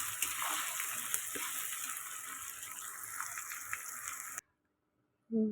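Chicken frying with blended spice paste in a pan, giving a steady, close crackling sizzle for about four seconds before cutting off abruptly; a brief voice follows at the very end.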